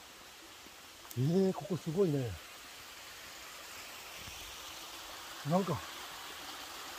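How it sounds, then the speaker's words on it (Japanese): A gentle stream flows steadily at the Senjuin waterfall in Itoshima, Fukuoka, where low water makes a soft, continuous hiss of trickling water that underlies brief talk. "水の流れる音がね、せせらぎっていうんですか"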